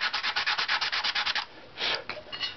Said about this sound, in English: Let's use our sandpaper to even out the fix